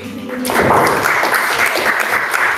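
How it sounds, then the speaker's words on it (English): Clapping breaks out suddenly at a student council meeting, a brief burst of applause from a small room of people following a short spoken line. "Can we clap for that?"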